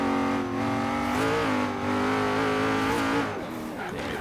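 A Koenigsegg Regera hypercar drives in the Forza Horizon 3 video game, its engine holding a loud sustained drone that climbs and shifts in pitch as it accelerates, with some tire noise near the end.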